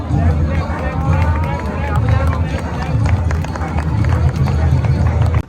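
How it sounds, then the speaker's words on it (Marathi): A dense crowd at Futala Lake on Independence Day, 15 August, makes a loud, unbroken outdoor hubbub of many voices and movement that holds steady throughout. "तर गाई किती गर्दी आहे या फुटाला लागले"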